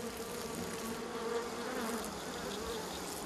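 Asian giant hornets swarm around their nest freshly dug out of the ground, a steady, dense droning buzz from many insects close by, moderately quiet and unbroken, with no one talking.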